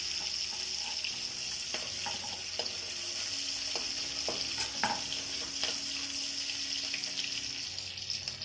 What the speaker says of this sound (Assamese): ইয়াতে মই পিঁয়াজ দিছোঁ এটা। ভালকৈ লৰাই লৈ